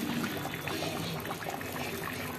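Water pours steadily into a pot of cooking mutton rice pulao, a continuous splashing trickle with no talking.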